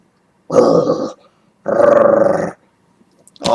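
A dog growls and barks in two strong bursts close to the microphone, with a brief sound at the very end; a person coaxes it before and after.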